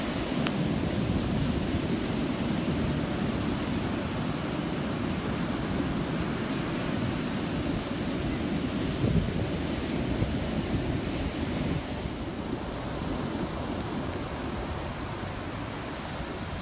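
Ocean surf at Myrtle Beach, a steady wash of breaking waves with wind noise, continuous and moderately loud with no voices.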